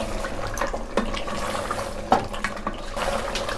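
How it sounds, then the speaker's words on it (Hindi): Water poured into a pot of meat and taro (arvi gosht) curry after frying, a soft continuous splashing and trickling with a few brief louder splashes, close and moderately quiet. "अब हम इसके अंदर पानी डालेंगे।"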